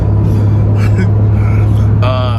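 A Cummins diesel engine in a truck on 35-inch tires rumbles loudly and steadily up close, a deep continuous drone with voices talking over it.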